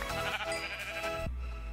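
A sheep bleating in Minecraft, a wavering nasal cry that holds for over a second before cutting off abruptly into a low hum, with game sounds underneath.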